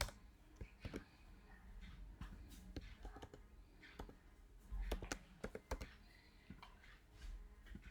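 Code being typed on a computer keyboard, quick irregular clicks and taps in short bursts, close and fairly quiet.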